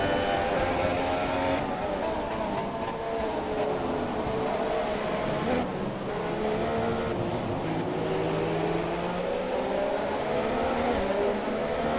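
A Formula 1 car engine from F1 2017 lapping the Canadian Grand Prix circuit, its high whine rising and falling steadily through gear changes, loud and continuous with no voices.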